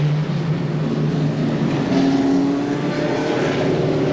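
Race cars running a heat at Seekonk Speedway, a 1994 weekly short-track race, engines droning and whining continuously as the pack circles, loud and close with rising and falling pitch.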